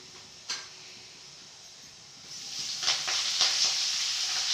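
A tempering of spices sizzling in a pan, quiet at first with an occasional click, then swelling into loud crackling and spitting with sharp pops from about halfway through.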